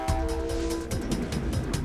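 A PNR passenger train rolls along the rails with a steady low rumble and repeated rhythmic clacks of wheels on track joints, loud and close throughout, with no talking.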